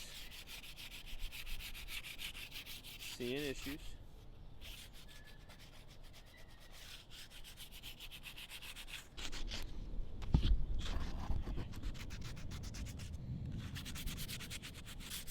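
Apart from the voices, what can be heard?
sanding wood with sandpaper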